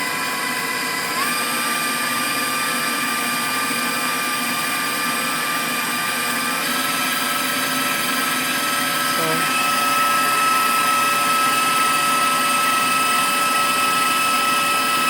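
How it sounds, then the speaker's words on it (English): An electric mixer running on high whips pasteurized egg whites for Swiss meringue buttercream, a loud steady whirring whine that holds level throughout, with its pitch shifting slightly partway through. "I want it to get frothy before I add the powdered sugar. Just gonna mix it on high."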